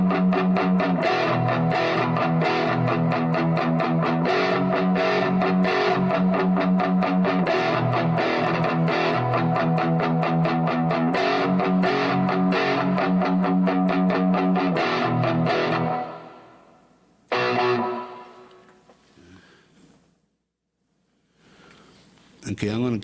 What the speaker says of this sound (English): I could hear a guitar playing.